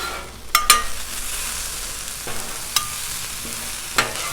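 Chicken tossed with a spatula on a hot Blackstone griddle, a steady sizzle running underneath a few sharp metallic scrapes and taps spaced through the stretch.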